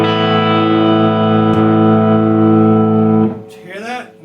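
Electric guitar played through an Ironhorse Heritage Blackface 1x12 combo amp with the bright boost switch engaged, a loud sustained distorted chord ringing for about three seconds before it cuts off and a voice speaks.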